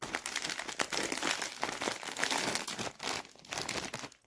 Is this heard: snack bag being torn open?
yes